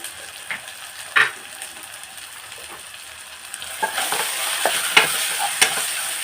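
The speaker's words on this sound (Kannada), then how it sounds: "ಈ ಥರ ಫ್ರೈ ಮಾಡ್ಕೊಳ್ಳಿ." Chili, turmeric and coriander powder frying in a pan for mutton vegetable keema, a soft continuous sizzle punctuated by sharp stirring clicks and scrapes that grow busier toward the end.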